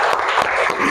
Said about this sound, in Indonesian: Tepuk tangan dulu untuk Evan